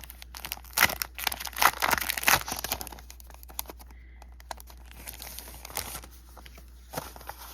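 Packaging of a gingerbread house stamp set being opened, crinkly plastic and paper rustling in irregular bursts, loudest early on, then softer scattered crackles, close with no talking.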